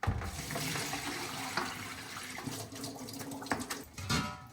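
Cold tap water runs into a bowl as potatoes are rinsed, a steady close splashing stream with sloshing and knocking as the contents are stirred and swirled.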